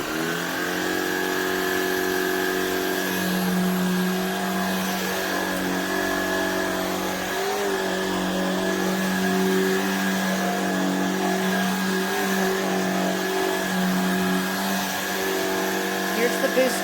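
A Shark Pet cordless stick vacuum runs loudly and steadily, a continuous close motor whine with a strong low hum and high hiss, constant throughout.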